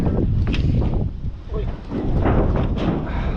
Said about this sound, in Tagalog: Wow, ang hangin.